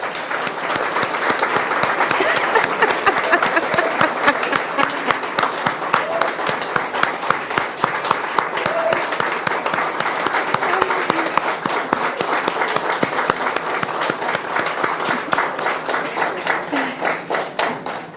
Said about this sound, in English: give these amazing ladies the biggest round of applause that you can